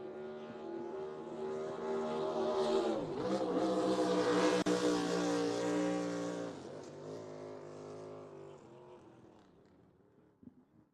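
A racing boat with an Evercraft hull and a 6-litre Dodge engine roars past at Raymond Terrace, its high engine note rising to a loud peak, shifting in pitch as it goes by, then fading into the distance.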